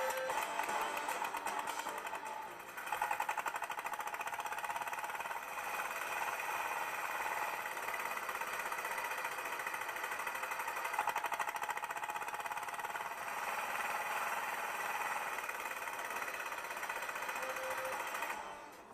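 A small tractor engine runs steadily in a continuous mechanical chatter with a knocking, vibrating texture, holding a near-constant level for the whole stretch with only a brief dip early on.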